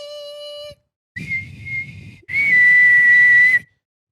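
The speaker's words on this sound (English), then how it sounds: "The sound of a whistle." A whistle is blown three times: a short tone, then a wavering blast, then a longer, loud, steady shrill blast, close up.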